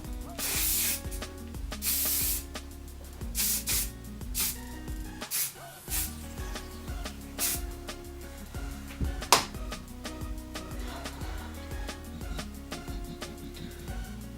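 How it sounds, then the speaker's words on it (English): Hairspray is sprayed onto curled hair in short hissing bursts, partly masked by loud rhythmic music playing throughout. "And then I'm going to go in with the hairspray."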